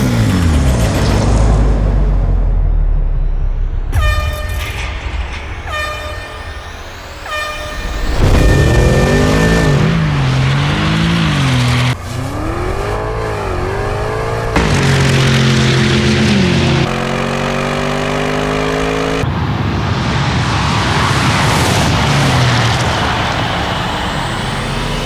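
Two gasoline SUVs with 8-speed automatic transmissions launch side by side in a drag race, engines revving hard and climbing through repeated gear shifts, loud and close, with no talking.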